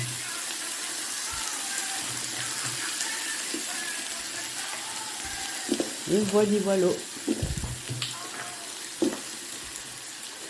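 Vegetables sizzle and crackle steadily in a hot oiled pan, with a brief spoken phrase in French and some clattering midway through.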